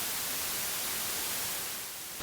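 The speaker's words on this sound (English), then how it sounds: "Take the output from the noise module and run it to your main output" Steady hiss from the noise module of a Softube Model 72 synthesizer, a dense, even static like white or pink noise that holds constant throughout with no other sounds.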